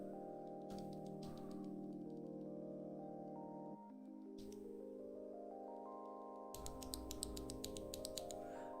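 Mechanical keyboard fitted with Blue Velvet switches and stock keycaps, typed on steadily at close range, the clicks layered over a loud sustained tonal music bed, with denser bursts of keystrokes near the end.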